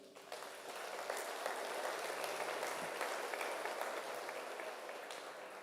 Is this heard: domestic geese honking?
no